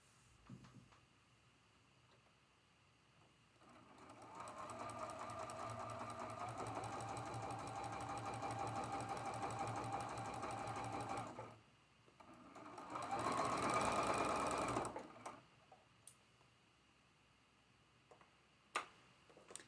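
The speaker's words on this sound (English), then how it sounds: "We're flipping the green over, and sewing this last seam." A sewing machine stitches the last seam of a traditional Shooting Squares quilt block, running in a steady rapid whir for several seconds, pausing briefly, then running again in a louder burst before stopping, with a few faint clicks afterward.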